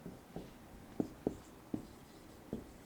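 A pen or marker writes out a short French example sentence, heard as a few faint, soft strokes and taps at irregular intervals in a quiet room.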